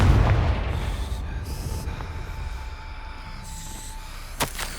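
A Confringo blasting spell explodes in Hogwarts Legacy gameplay, opening on a heavy low boom that fades into a rumbling tail, with a sharp crack near the end.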